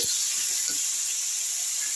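Bottle gourd added to hot oil with fried cumin and bay leaf, giving a continuous bright hiss and sizzle that runs evenly throughout at moderate loudness.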